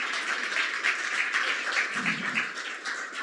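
Audience applause for the evening's presenters at a talk on underground and open-cut blasting for the DUNE excavation, a steady dense clatter of many hands clapping from a seated crowd, sustained throughout without a break.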